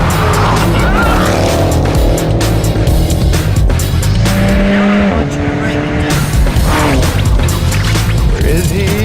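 An Alfa driving off-road roars with a strained engine, and its tires squeal and skid throughout. People talk over the steady, close, loud drone.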